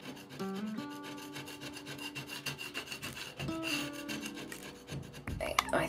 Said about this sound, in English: I think if I get a spatula and really carefully just pick it away, it should be alright